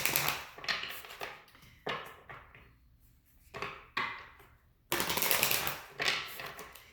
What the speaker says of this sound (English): I've already pre-shuffled the cards, but I'm going to shuffle them a couple more times.